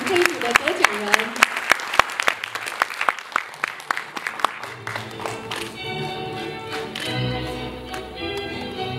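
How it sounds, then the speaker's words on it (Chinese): An audience claps for award winners at a 2018 cultural and creative industry news reporting awards ceremony; crisp, distinct claps fill the first half, then fade under music and voices. "用热烈的掌声来恭喜我们这一组的得奖人"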